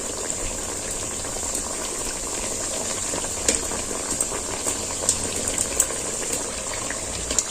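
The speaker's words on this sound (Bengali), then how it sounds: "এইভাবে আমি উল্টে পাল্টে ভেজে নেব" Close, continuous hiss and bubbling of semolina sweets deep frying and puffing up in oil, with scattered soft pops and crackles over the steady sizzle, and no talking.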